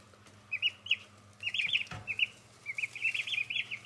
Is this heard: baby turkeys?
yes